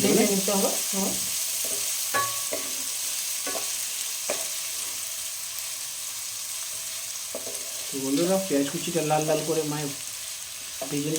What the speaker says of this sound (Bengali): এই পেঁয়াজ কচিটা লাল লাল করে ভেজে